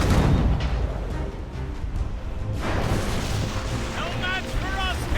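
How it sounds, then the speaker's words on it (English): Ship cannons fire during a naval battle in Assassin's Creed Rogue, a dense, continuous rumble of booming blasts and crackling gunfire with voices shouting over the din. "Ready for battle, men! Ready to fire, sir!"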